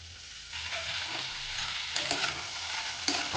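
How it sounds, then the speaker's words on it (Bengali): Beetroot and potato being stir-fried with chopped onion, garlic and green chilli in a pan, a steady sizzle broken by a few sharper scraping stirs, close and clear with no talk. "পেঁয়াজ রসুন কুচিটা একটু ভালো করে একটু নেড়ে নিচ্ছি"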